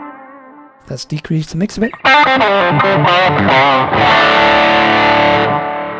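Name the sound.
Tube Screamer overdrive effect on Zoom G3X guitar processor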